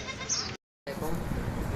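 Gulabi goat, a two-toothed male, bleating at a Karachi livestock market, a loud, close, wavering bleat broken by a brief gap, with talking throughout.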